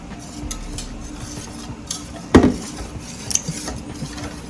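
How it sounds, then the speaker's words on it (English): Cornmeal and water being stirred in a cup to work out the lumps, with soft scraping swirls and one sharp clink of the utensil against the side midway through. "I want to mix it out so there are no lumps in there."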